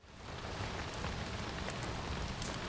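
Steady rain falling outside on a morning, a dense, even hiss of drops on surfaces with no talk, soft and continuous.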